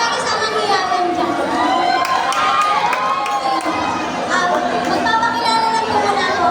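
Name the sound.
audience applause and cheering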